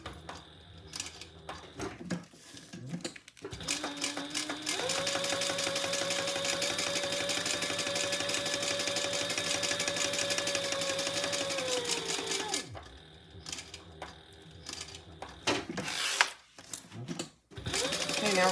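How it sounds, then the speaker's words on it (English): A home sewing machine runs steadily for several seconds, top stitching and basting the layers of a small sling bag, with brief handling sounds and quiet movement before and after the long motor whir. "let's top stitch this, and then we'll baste around all 4 sides"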